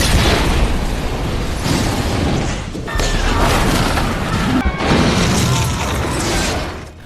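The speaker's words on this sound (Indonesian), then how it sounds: "tiba-tiba terjadi ledakan di setiap pintu dan jendela" Explosions bursting at every door and window of a bank during a police raid in a 2005 action film, loud sustained roaring blasts in three long waves with short gaps between, fading at the end.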